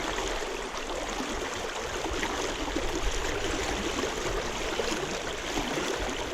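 Water of the Little Juniata River rushes past in a continuous, even broadband wash, moderately quiet and steady throughout, with no voices over it.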